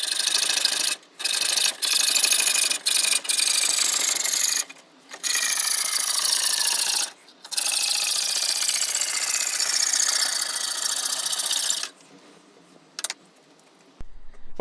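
Exhaust flange being cut off an Opel with a power tool: long, loud stretches of harsh grinding and rasping, broken by short pauses, with the cutting stopping near the end.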